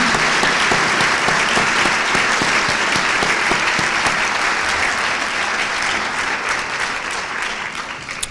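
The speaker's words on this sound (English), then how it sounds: "if we could have a round of applause for the generosity of these folks who have given to our community" Sustained applause from an audience at a high school senior honors convocation fills the hall, a dense even wash of clapping that tapers slightly toward the end.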